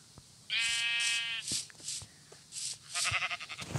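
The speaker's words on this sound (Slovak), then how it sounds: "Choď na ovcu." Minecraft sheep bleating twice, a sustained wavering baa followed by a shorter, choppier one, close and clear over quiet game background, with a few soft clicks between them.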